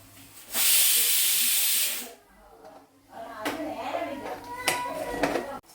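A vessel heating water for tea on a stove lets out a loud, steamy whistling hiss for about a second and a half. Quieter kitchen sounds and faint clatter follow.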